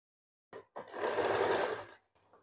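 A sewing machine stitches blouse fabric in one short, close run of about a second, preceded by a couple of quick clicks and fading to a faint tail.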